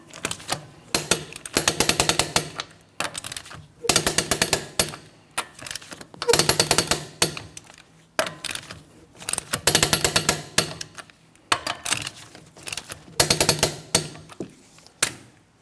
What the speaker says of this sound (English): I'm going to be torquing each one of my lug nuts to that 100 foot-pounds in a crisscross manner